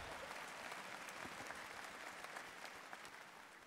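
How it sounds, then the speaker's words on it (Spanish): An audience claps steadily after a point in a Reformed sermon, a dense even patter from a sizable crowd that fades slightly toward the end. "Sí, pueden aplaudir"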